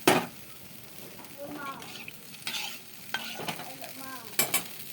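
Water is poured into a pan of fried masala for a rohu fish curry, setting off a soft steady sizzle, with occasional stirring scrapes and light clinks from the pan.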